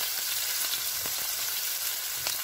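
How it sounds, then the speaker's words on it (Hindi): Fresh onion and garlic fry in a pan for homemade Chinese chicken vegetable fried rice, a steady, moderately quiet sizzle with a few light stirring taps and no voices. "इनको 2-3 मिनट के लिए भूनना है।"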